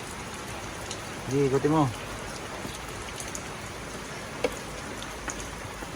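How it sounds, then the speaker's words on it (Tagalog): Steady rain falls outdoors around a parked jeepney being inspected, a constant even hiss throughout at moderate level, with a short spoken exchange in the foreground. "Ulan po."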